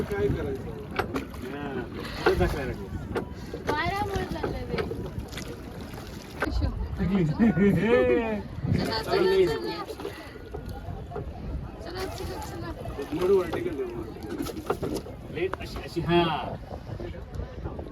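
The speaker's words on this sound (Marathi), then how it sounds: "बोट आमची बोट डुकडुक होत आहे ना." A rowing boat rocks on a lake on a family trip around Panchgani and Mahabaleshwar, with soft water and wind noise heard under near-continuous conversation.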